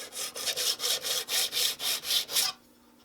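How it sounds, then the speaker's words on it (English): A metal file is drawn back and forth across the edge of a card scraper: about ten rhythmic, even rasping strokes close up, then a stop. "take your file and run it across, back and forth, keeping it nice and flat just a couple times"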